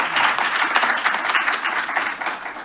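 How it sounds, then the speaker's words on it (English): A rousing round of applause from a crowd at a civic 60th-anniversary event, dense continuous clapping at even strength throughout. "applause"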